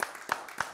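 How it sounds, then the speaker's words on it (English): Three evenly spaced hand claps from a church congregation during worship, sharp and fairly close, about a third of a second apart. "Give the Lord a hand clap"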